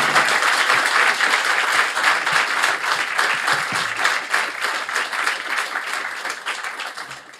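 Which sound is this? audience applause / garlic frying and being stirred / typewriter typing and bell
audience applause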